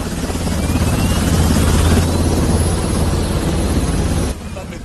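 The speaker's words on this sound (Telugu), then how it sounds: "నన్ను ఎత్తుకుపోవడానికి హెలికాప్టర్ వచ్చినట్టున్నదిరా" A helicopter arriving in a Telugu action thriller, a loud, steady rotor-and-engine roar with heavy low rumble that holds for over four seconds, then drops sharply in level near the end.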